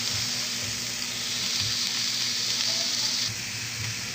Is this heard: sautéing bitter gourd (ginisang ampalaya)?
yes